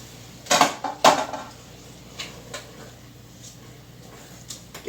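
A utensil stirs tomatillo and chickpea soup ingredients with red pepper flakes in a pot, two sharp metallic clanks near the start followed by softer scraping and light knocks.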